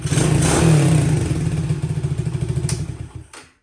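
Minibike engine idling close by with a steady low chugging pulse, a brief rev near the start, then cutting off at the end.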